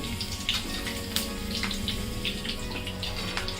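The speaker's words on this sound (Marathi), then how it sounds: "वड्याबरोबर खाण्यासाठी आपण मिरची पण तळून घेऊया." Slit green chillies fry in hot oil with a continuous close bubbling hiss and scattered sharp pops and crackles.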